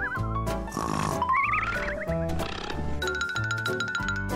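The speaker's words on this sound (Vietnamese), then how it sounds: "Mavis ngủ ngáy to quá đó nha." A cartoon character snores loudly in comical, pig-like snorts and grunts, set against bright, busy background music throughout.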